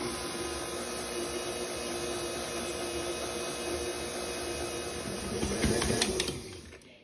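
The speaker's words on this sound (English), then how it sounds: "Now we will use the paddle attachment for the KitchenAid mixer. And begin mixing to combine all the ingredients" A KitchenAid stand mixer with its paddle attachment churns rye dough for pumpernickel bread, giving a faint, steady motor hum that swells briefly with a few knocks near the end.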